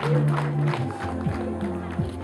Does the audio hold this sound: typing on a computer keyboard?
no